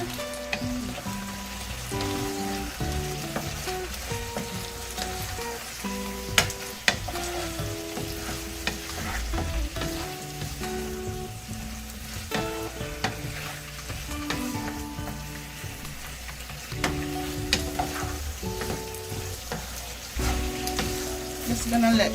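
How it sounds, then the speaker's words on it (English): Tofu stir-fried with vegetables in a pan makes a continuous sizzle with repeated scraping stirs and utensil clatter, close by, while music plays underneath. "So tofu in, and stir"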